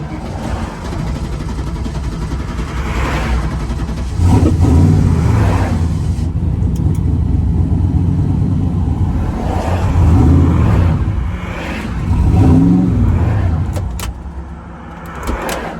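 A turbocharged car engine, its wastegate being adjusted, is heard from inside while driving, loud and steady with three distinct surges of acceleration that rise and fall over the run.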